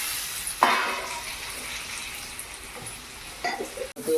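Turmeric and chili powder fry in hot oil in a pan for an egg masala curry, giving a soft, steady sizzle with a few louder stirring scrapes and clinks near the start and end.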